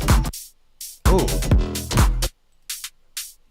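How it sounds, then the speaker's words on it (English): Short electronic music phrase made in FL Studio with the Plucked plugin, with punchy drum hits and bright, hissy open hi-hat bursts that ring briefly between the beats. "That's actually a good open hi-hat."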